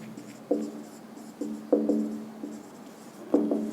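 Pen writing an answer on paper during a class 9 polynomial maths lesson, several short close scratchy strokes in uneven bursts, with no speech over them.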